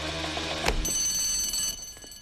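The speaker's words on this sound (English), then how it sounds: "What's that? It's the alarms." Alarm bells go off inside a bank, a loud bright ringing that starts with a sharp clang and holds steadily, then cuts off near the end.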